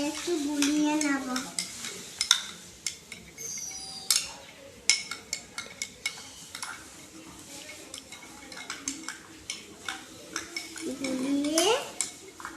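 Spoon stirring a turmeric mixture in a metal pan on the stove, with scraping, clinking strokes over a soft sizzle, close by, with a few louder knocks against the pan.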